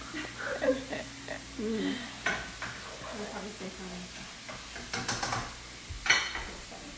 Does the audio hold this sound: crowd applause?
no